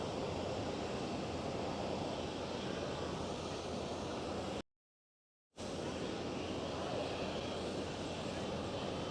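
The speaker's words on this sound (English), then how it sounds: "Towards the Sunweb 737 of Transavia." A Transavia Boeing 737 in Sunweb livery taking off at Amsterdam Schiphol gives a steady, wind-like jet roar, cut by a short gap of silence before the same roar resumes.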